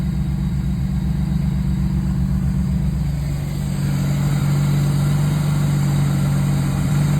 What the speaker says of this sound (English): The engine still sounds great.